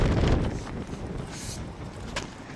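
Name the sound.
wind blowing outdoors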